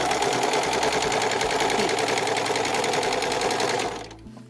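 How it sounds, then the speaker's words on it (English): A straight stitch sewing machine stitches a seam in a fast, even mechanical chatter, loud and close for about four seconds before it stops abruptly, with no speech. "So if you only have a straight stitch machine, you do your one line of your straight stitch,"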